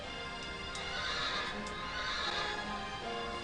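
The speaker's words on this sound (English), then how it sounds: "Come here, little horsey." Horse neighing and whinnying over steady clip-clop hooves in a PlayStation Classic video game, a continuous loud game mix with a couple of sharp whinny bursts near the start and middle.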